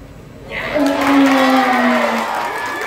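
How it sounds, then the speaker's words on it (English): Audience at a school inter-house quiz competition breaks into loud cheering and excited shouts after an answer is revealed, rising sharply and sustained for a couple of seconds with voices mixed in. "Please, not cheer. Do not cheer."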